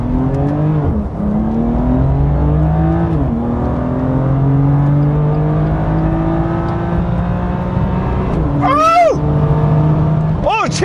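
A BMW M2 engine drones steadily up close with a rich harmonic growl, blips briefly early on, then snaps into a sharp, rising rev toward the end before settling again.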